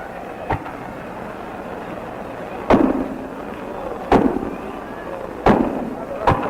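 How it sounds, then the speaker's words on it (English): Fireworks at the 1950 National Boy Scout Jamboree give five sharp, booming bursts spaced a second or two apart over a steady background hiss. "And then we saw the biggest show of fireworks that ever was."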